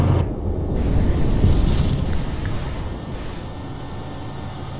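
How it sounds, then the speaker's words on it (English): An explosion in a military video game rolls out as a distant, heavy rumble that swells and then slowly fades across the whole stretch, with no talking over it. "There was an explosion to a south on the ridge."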